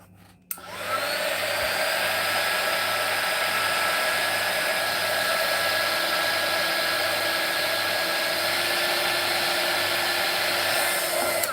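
A hair dryer used as a heat tool on an art journal page switches on with a click and blows steadily and loudly for about eleven seconds, a constant close whir with no talking.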